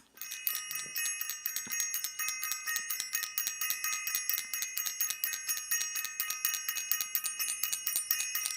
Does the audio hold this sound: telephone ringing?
no